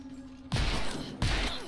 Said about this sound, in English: Hey, I'm dead! Stop shooting me!